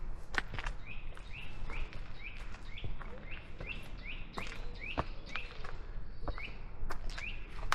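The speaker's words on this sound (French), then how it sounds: "Ouais, des oiseaux partout." Birds chirp repeatedly in short rising tweets across an outdoor hillside with trees in Denmark, steady and moderately near over a soft background hiss, with occasional clicks and no speech.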